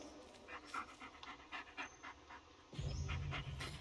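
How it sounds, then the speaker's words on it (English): A dog pants rapidly and rhythmically in the Blair Witch video game, close and clear, with a deeper rumbling layer joining for the last second. "This is Bullet, your right-hand dog."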